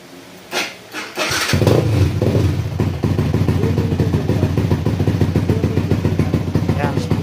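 A tuned Yamaha Sniper 150 motorcycle engine sputters a couple of times, catches, then settles into a loud, crackling idle with steady rhythmic pulses close by.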